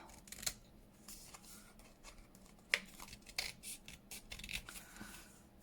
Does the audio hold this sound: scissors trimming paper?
yes